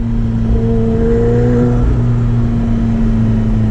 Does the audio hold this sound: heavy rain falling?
no